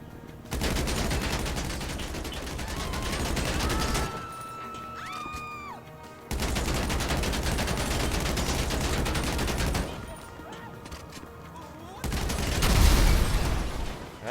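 Carbine rifle gunfire in Grand Theft Auto V, two long sustained bursts of rapid automatic shots separated by quieter gaps with faint whistling tones, ending in a heavier crash or blast.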